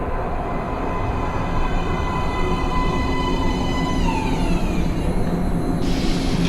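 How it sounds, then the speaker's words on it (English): A train pulls into a metro platform in the video game Metro Last Light Redux, a loud, steady rumble and rail screech with rising whine tones, sounding alone without speech. "Please step away from the edge of the platform. Train coming in."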